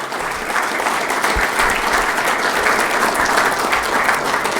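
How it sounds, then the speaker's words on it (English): Steady applause from an audience at a Rialto city council meeting, honoring the 2019 CIF champion soccer team, sustained and fairly loud throughout with no talking over it. "Give them a round of applause."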